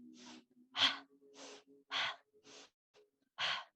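Forceful rhythmic breathing during an outdoor yoga breathing exercise in a park: seven short, sharp breaths in a steady pulse, close and clear, with a low hum beneath.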